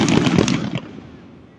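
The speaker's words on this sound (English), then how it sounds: "Why it's a bad idea to just launch fireworks up into the sky from your house" Independence Day fireworks going off outdoors near a house, a quick run of loud crackling pops lasting under a second and then fading into a quiet outdoor tail.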